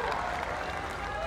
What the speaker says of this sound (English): Listen to the cheer.